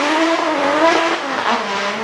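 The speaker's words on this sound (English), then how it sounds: "Brendan Stone had brought the 750 brake horsepower Stone Motorsport Drift Taxi to throw at Dungarvan's 2 hairpins." A 750 bhp Stone Motorsport Drift Taxi roars through the hairpins of Dungarvan Hillclimb, with a loud, sustained engine howl and tyre noise holding steady the whole time.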